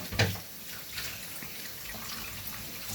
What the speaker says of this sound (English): I need to wash my hands a little bit here